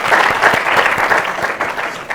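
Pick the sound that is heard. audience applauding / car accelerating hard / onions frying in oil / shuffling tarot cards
audience applauding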